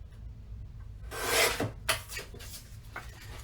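A blade or trimmer slices through a paper photo mat with a quick scraping rasp, followed by a second brief cut and a soft tap, close and fairly quiet.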